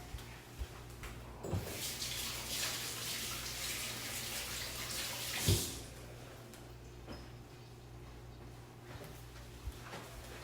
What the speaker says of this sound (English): So wash the hands.